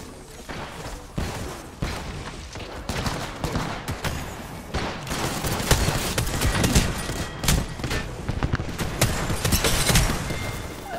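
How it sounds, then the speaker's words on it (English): Dense, chaotic gunfire from several directions in an Apex Legends match, rapid overlapping bursts and sharp cracks layered over a busy, loud battle din with no clear pauses. "I'm literally getting shot by 5 different people right now"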